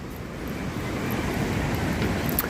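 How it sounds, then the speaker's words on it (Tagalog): Large sea waves roll onto a beach at high tide, a broad rumbling wash of surf mixed with wind noise, loud and continuous. "Pero malalaki ang alon."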